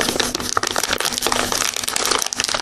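A packet is torn open and handled with dense, close crinkling and crackling of plastic wrapping that continues throughout, with no talking.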